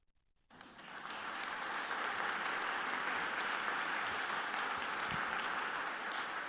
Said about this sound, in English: That was a quick enough clap this time, right?